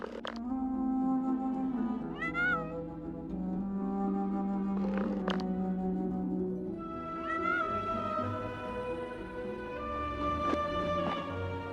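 Several cats in the video game Champions of Norrath meow repeatedly, drawn-out and close, over a steady low ambient drone, with no talking.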